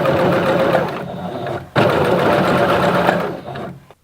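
Home sewing machine stitching a leotard, a loud, close, continuous mechanical whir that stops briefly then resumes before winding down.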